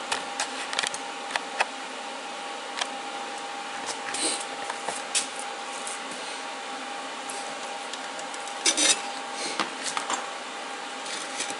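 Plasma cutter slicing 1/16-inch metal with the amperage turned down, giving a steady, fairly quiet hiss with a faint constant tone and a few sharper crackling bursts.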